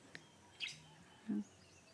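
Birds chirp on a mountain trail, a couple of faint, brief high calls spaced apart in a quiet outdoor setting.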